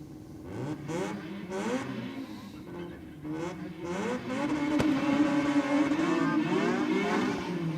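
A drag race car at Sydney Dragway launches off the line on a boxer-themed night, its engine climbing in pitch and then dropping at each gear change as it pulls away, loud and fairly close.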